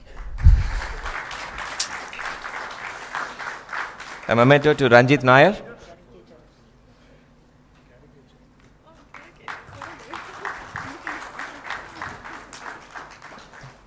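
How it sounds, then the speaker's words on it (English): An audience at a NASSCOM HR Summit panel discussion breaks into scattered applause for the panelists, with a host's amplified voice announcing a presentation over it and a second round of clapping at the end. "Applause."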